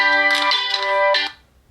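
A Nokia 5.4 phone plays a bright synthetic ringtone set for SIM card 2, a loud, close melodic phrase of a few tonal notes that cuts off after a moment.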